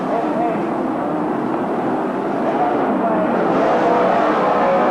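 Sports sedans, including a big blue Ford Falcon, accelerate away from the start at Sandown in a 1984 race, a dense, distant engine roar that holds steady and swells slightly throughout.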